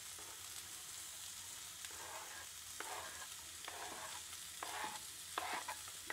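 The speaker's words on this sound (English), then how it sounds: "And I'm going to add in this red onion garlic combo. I'm going to sear that off to start off with into my pot." Red onion and garlic sizzle steadily as they sear in a pot, with a soft continuous frying hiss broken by several scraping stirs of a utensil, close by and fairly quiet.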